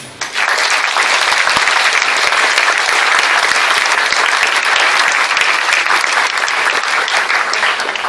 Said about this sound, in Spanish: gracias y este aplauso